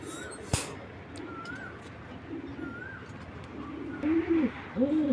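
Pigeons cooing at a Bangladeshi pigeon farm, with several soft rolling coos from nearby birds, growing louder and repeating near the end, over a low background murmur.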